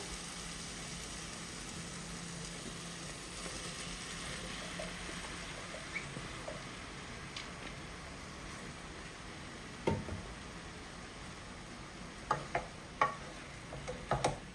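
Mushrooms are added to softened cooked tomatoes in a pan and stirred, a low steady sizzle under several sharp spoon taps and scrapes that come close together near the end.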